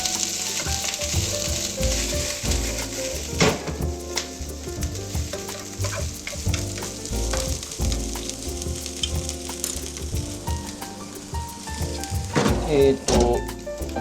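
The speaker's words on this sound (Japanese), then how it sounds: "ちょっとインゲンがあったんで、インゲン&もやし炒め。" Bean sprouts and green beans sizzle and crackle in a hot pan, loud and close, with steady frying hiss broken by clattering stirs and scrapes of a utensil.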